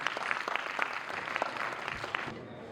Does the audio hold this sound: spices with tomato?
no